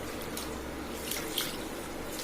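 Water sloshes and trickles steadily as soaked rice is rinsed for appam batter, a faint, continuous wash with small splashes.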